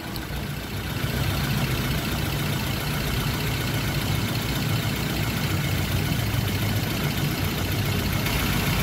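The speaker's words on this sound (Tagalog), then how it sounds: "Ayan, umandar na yung radiator fan motor." Radiator fan motor on a Toyota Corolla starting up and running: a steady, loud whirring drone that settles into a constant hum for several seconds, with no talk.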